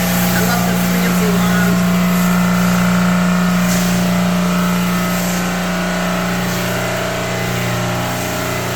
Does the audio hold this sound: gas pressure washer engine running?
yes